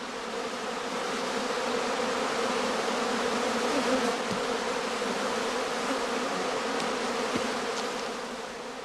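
Honeybees swarm around a heather skep hive in an apiary, a dense, continuous buzzing drone that holds steady and close throughout, with individual bees flicking past now and then.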